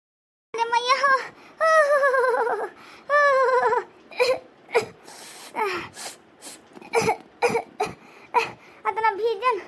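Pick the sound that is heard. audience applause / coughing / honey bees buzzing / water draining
coughing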